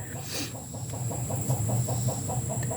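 A chicken clucks in a steady, repeated rhythm of short calls close by, over a constant background hum, with no talk.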